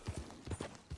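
Horse hooves clip-clopping in Red Dead Redemption 2, a quick steady run of soft thuds close by and fairly faint, with no talk.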